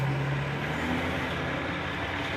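Morning road traffic with trucks rolls past in a steady, continuous roar. A low engine drone stands out early on, with no voices heard.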